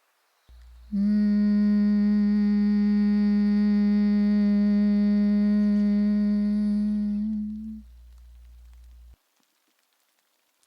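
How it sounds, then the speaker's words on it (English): A single steady hummed tone held for about seven seconds, smooth and sustained, then it stops, leaving a low background drone. "as you exhale, softly hum, feeling the vibration in your throat"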